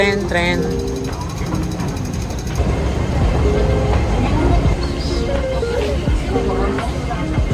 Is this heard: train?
yes